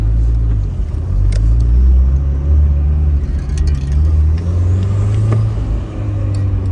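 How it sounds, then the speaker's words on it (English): SR20DET-swapped car driving with turbo noises, a low, steady engine rumble heard from inside the car, with faint whistles and brief hissy chirps from the turbo riding over the drone. "The car is still quiet, but just a lot of turbo noises."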